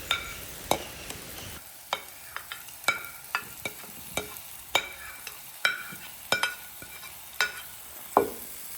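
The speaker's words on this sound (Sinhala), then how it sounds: "ඊට පස්සේ ඒ ටිකත් හොඳට බැදුනට පස්සේ අපි හම්බගත්ත චිකන් ටික ඒකට දාන්න ඕනේ." Chicken frying in oil with chilli, onion and tomato, giving a steady low sizzle broken by frequent sharp clicks and scrapes of a spoon stirring the pan.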